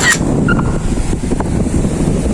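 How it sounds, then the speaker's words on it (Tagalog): Strong wind buffets the microphone at Salomague Seaport in Cabugao, Ilocos Sur, with moored boats nearby, a steady low roar filling the whole stretch without pause. "Lakas ng hangin talaga."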